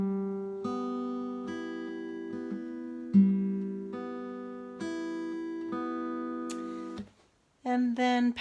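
Acoustic guitar plays a fingerpicked thumb-index-middle-index pattern, single plucked notes ringing clearly one after another at a slow, even pace, followed by a voice speaking at the end.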